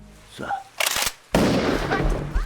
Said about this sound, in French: Ibong lui tire dessus 2 fois.